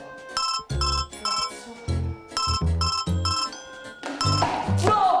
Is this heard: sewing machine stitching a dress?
no